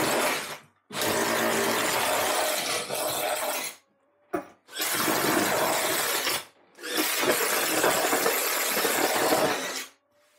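A power drill bores holes through a wall to run heating and gas pipes down, in three loud, sustained bursts of grinding drilling separated by brief pauses.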